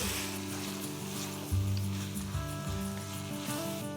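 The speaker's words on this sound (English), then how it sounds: "now let's cook till the tomatoes are nice, soft and mushy" Tomatoes and yogurt sizzle in a pan over a low flame, a steady soft frying hiss running throughout beneath a faint tonal background hum, with a couple of light bumps partway through.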